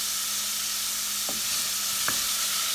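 Celery and carrots sizzle steadily in a pot on low heat for minestrone, a close, continuous frying hiss with a few faint stirring clicks and no voices.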